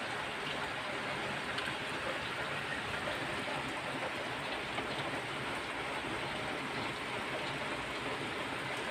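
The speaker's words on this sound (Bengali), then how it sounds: "কি সুন্দর বৃষ্টি হচ্ছে দেখুন।" Heavy morning rain pours down steadily in a dense, even hiss that fills the whole stretch with no break, close and fairly loud, with no voices.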